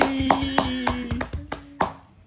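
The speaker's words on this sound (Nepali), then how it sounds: "ताली" Several hands clapping in a quick, irregular series of sharp claps at close range, about eight in just over two seconds, fading slightly toward the end.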